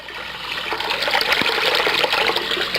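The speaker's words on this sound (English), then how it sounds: "fill up a bowl here and get plenty of water" Water pours steadily from a tap into a bowl, a continuous splashing rush with no voices.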